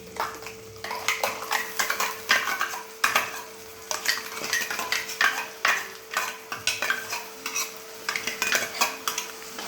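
Tomato puree and browned onion masala for kadai paneer are stirred and roasted in a kadai: repeated close scraping of a spoon against the pan over a faint, steady sizzle.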